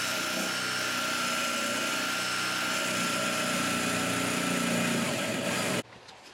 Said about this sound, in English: Getting the crusty bits out of it here with the wire wheel.